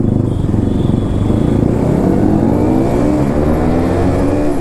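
A KTM RC 200 motorcycle fitted with a wide 180 mm rear tyre, revving on a test ride: a loud, close engine drone whose pitch climbs steadily, with no voices.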